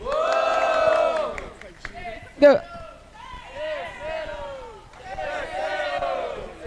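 Crowd at a university rap battle, Batalha da UFBA, shouting and cheering in a vote for an MC, with a sharp loud burst in the middle and sustained voices rising and falling around it.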